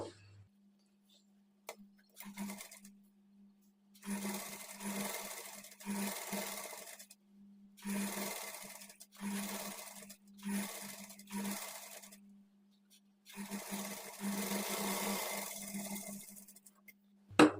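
A sewing machine stitches a half-inch margin along the border of a pleated sleeve, running in repeated bursts of steady whirring with short pauses between them, close and moderately loud, with no talking.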